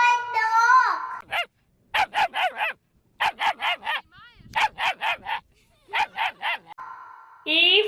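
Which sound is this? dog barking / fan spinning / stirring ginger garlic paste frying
dog barking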